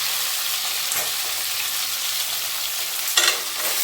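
Okra and eggplant frying in a hot pan on a gas flame, with a steady close sizzle and a few scraping stirs toward the end, no voices.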